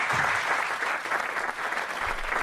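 A game show studio audience claps for a former contestant, a dense, even wash of applause that holds steady throughout.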